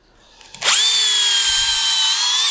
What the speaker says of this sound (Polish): potrzebuję wiertarkę, żeby nawiercić sobie w tym miejscu